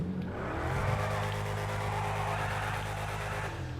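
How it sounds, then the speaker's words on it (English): A Frankenstein classic car in Grand Theft Auto V, its engine revving loudly and close in a steady, continuous roar with shifting pitch, no talking over it. "And listen to this engine."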